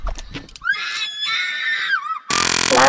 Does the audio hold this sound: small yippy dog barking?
no